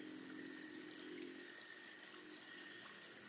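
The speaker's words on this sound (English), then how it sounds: "here is a mini waterfall" A small waterfall partway up a trail near a Hindu temple in Sarawak, heard as a constant rushing wash of falling water, even and unbroken, fairly faint and steady with no talking.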